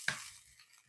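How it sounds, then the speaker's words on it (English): Onions sautéing in a pan, given one quick toss: a single sharp scrape and clink at the start, then a soft fading sizzle alone. "we're going to go over here to our onions that we have cooking. I'm going to give them a toss."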